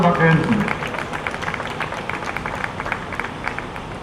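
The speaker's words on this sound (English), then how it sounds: "A round of applause for Dr." An outdoor crowd at a Dominica flag raising ceremony claps steadily in a dense, sustained burst of applause, with a voice heard over it at the start.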